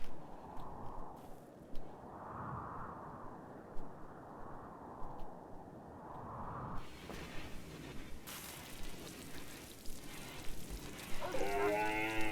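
Cattle in the video game RimWorld, a run of four or five drawn-out moos repeating at a steady pace, then shifting game sounds and a whooshing effect.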